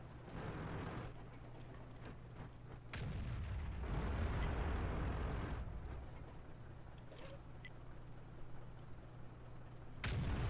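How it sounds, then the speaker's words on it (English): An IS-4 tank in World of Tanks fires its cannon at an AMX 30B, a deep, booming in-game blast, with a second heavy report near the end over a steady engine rumble. "IS-4 firing heat into an AMX 30B"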